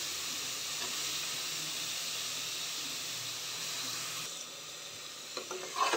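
Mushrooms sauté in a hot masala for mushroom biryani, giving a steady close sizzle and hiss that drops slightly near the end as stirring clinks and scrapes in the pan.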